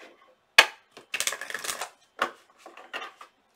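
Tarot cards being shuffled by hand: a crisp snap, then bursts of riffling and slapping of card stock, in short uneven clusters with quiet gaps, close up and fairly soft.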